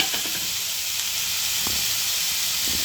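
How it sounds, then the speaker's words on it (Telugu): Onions with a pinch of salt fry in a pan, giving a loud, continuous close-up sizzle and hiss, with a few faint stirring scrapes and no talking. "ఆనియన్స్ ఫ్రై చేసేటప్పుడు ఇట్లాగా కొంచెం కొంచెం ఫ్రై అవ్వడానికి ఒక చిన్న టీ స్పూన్ సాల్ట్ వేద్దాం"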